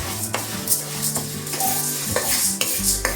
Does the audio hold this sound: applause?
no